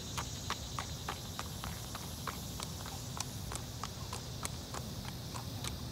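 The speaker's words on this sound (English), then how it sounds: "It's like a quarter horse." A horse's hooves clip-clop at a steady walking pace on hard ground, regular sharp knocks over a low background hiss, at moderate distance.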